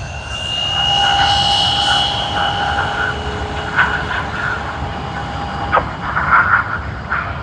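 All Nippon Airways jet at Sydney Airport, engines whining with steady high tones over a low rumble, a few brief louder bursts near the end, fairly close and without speech.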